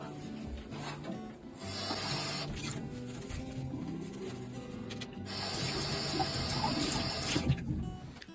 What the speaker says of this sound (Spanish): cuando al lavar la loza ocupo poca agua